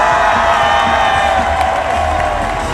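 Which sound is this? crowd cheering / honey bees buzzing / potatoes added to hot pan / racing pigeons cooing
crowd cheering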